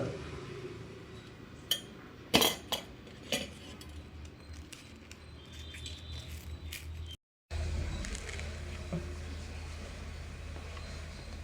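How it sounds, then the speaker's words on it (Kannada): Homemade peanut butter spread onto bread with a knife, heard as light scraping and a few sharp clinks of metal against a plate or jar, with soft scuffs under a steady low background hum and a brief dropout near the end. "ಇವಾಗ ಬ್ರೆಡ್ಡಿಗೆ ಹಚ್ಚುತ್ತಾ ಇದ್ದೀವಿ."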